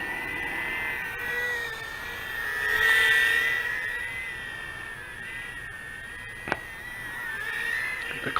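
An Eachine E010S Pro micro quadcopter drone flies nearby with a steady high-pitched motor whine that rises and falls in pitch as it manoeuvres, swelling louder for a moment, with a brief sharp click near the end.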